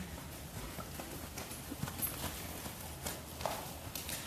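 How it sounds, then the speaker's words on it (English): A horse being ridden walks with steady clip-clopping hooves, fairly quiet against a steady background wash with no talk. "watching this beautiful rider ride this beautiful horse"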